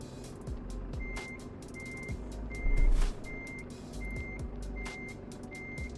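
A truck in American Truck Simulator backs up into a parking spot, its reversing alarm beeping in a steady, evenly spaced series of about seven tones over a low engine rumble, with a brief louder burst midway.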